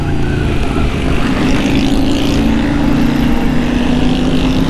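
A Yamaha Super Ténéré motorcycle engine runs loud and close in a steady, throaty drone with a constant low hum, with no talking over it.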